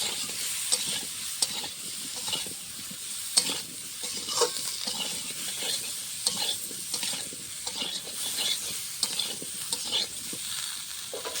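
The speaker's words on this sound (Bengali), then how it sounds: "কপিটা লাল লাল করে ভেজে নেব" Cauliflower pieces fry in hot oil with salt and turmeric for a Bengali rohu fish curry. A continuous close sizzle is broken by repeated scraping stirs and clinks of a spatula against the pan.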